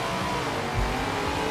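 Dodge Charger launching in Forza Horizon 4, a dense, loud engine roar that holds steady through a brief moment with a low surge partway in.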